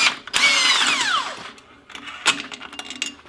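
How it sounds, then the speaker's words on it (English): An impact driver running in reverse to pull clutch bolts on a Polaris RZR XP1000 or XP900. One loud whirring burst winds down, then shorter buzzing pulses follow up close. "we're going to use a good impact driver and pull these bolts"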